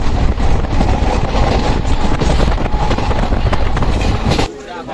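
A passenger train leaving Kishanganj station, heard from on board as a loud, continuous rumble with faint rhythmic clatter of the wheels, ending abruptly in a quieter stretch; a voice talks over it.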